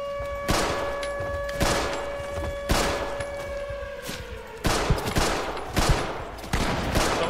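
Loud shotgun blasts ring out about once a second in Project Zomboid, each a sharp boom with a decaying tail, over a steady electronic tone.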